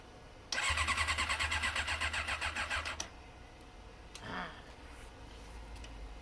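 Motorcycle engine cranking over with a starter, a rapid pulsing churn for about two and a half seconds that stops without catching, followed by quiet with a faint brief noise.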